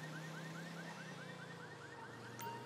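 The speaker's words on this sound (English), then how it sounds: "We got a car alarm going off." A car alarm in GTA 5 wails with a rapid, repeating rising whoop over a low droning tone. It is loud and continuous, and no one talks over it.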